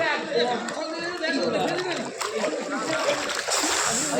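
A person dunking into a hot spring, with water splashing and sloshing continuously as people chatter over it.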